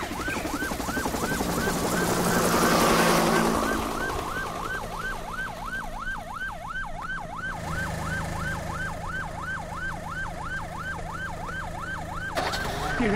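An ambulance siren wails in a steady rising and falling cycle as the vehicle moves, carried over a rumble of road traffic and engine noise.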